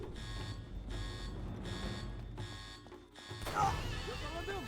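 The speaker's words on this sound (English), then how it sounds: "Taking the map and setting off the alarms, Flynn leaves us behind to try and find another way out" An alarm blares in repeated pulses in the Uncharted 2 video game, about five loud bursts over a busy background, before it stops and other game noise takes over.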